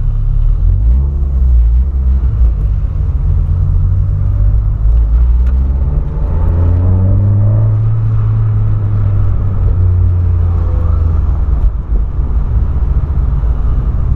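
A loud, deep exhaust rumble fills the cabin of a Volkswagen Polo as it accelerates, the engine tone rising through gear changes and dropping back.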